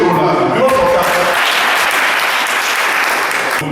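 An audience at an official handover ceremony breaks into loud, dense applause, with a few voices heard early on before the clapping carries on alone and fades slightly.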